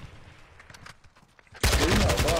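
An AK assault rifle fires in Call of Duty, breaking out as a loud, rapid burst of automatic gunfire in the final second after quieter game noise.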